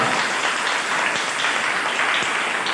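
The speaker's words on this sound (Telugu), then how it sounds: "నమ్మిన వాళ్ళందరూ చప్పట్లు కొట్టి మహిమపరుగా." A church congregation claps together during a worship service, producing a dense, steady wash of applause that holds at even loudness throughout with no speech over it.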